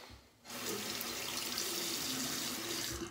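A tap runs steadily into a sink, rinsing a shaving razor with a close, continuous hiss that starts abruptly after a brief quiet moment and fills the rest of the clip.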